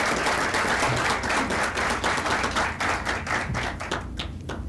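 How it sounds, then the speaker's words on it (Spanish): A crowd applauds steadily, dense clapping filling the room and then thinning out toward the end, with no speech. "Un aplauso para él."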